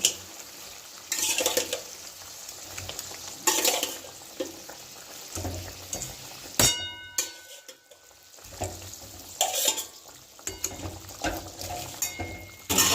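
Pieces of katla fish sizzle and fry in a pan, with bursts of crackling spatter and the scrape of stirring coming and going, loud and close, with no talk.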